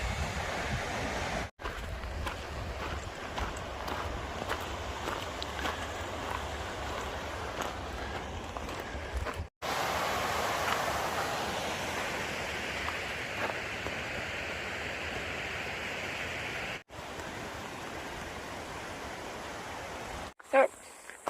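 Water rushes steadily down a rocky natural water slide beside the Pacific Crest Trail, a loud continuous broadband roar that holds throughout with only a few brief dropouts.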